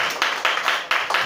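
Congregation clapping in acclaim of Jesus Christ at a church service: a brief burst of rhythmic, fairly even claps, slightly distant and reverberant.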